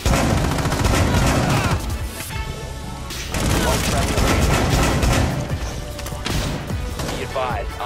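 Rapid, loud shotgun blasts and heavy gunfire from a Rainbow Six Siege match boom in repeated bursts, with excited players talking over the action.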